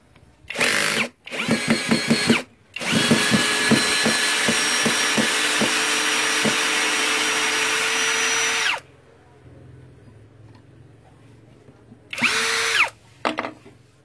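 Two brushless 21-volt drill drivers, a Dagmara and an MLHY, whir loudly at close range in short bursts and one long sustained spin, pitch rising and falling with the trigger, then a quiet pause before two more brief bursts.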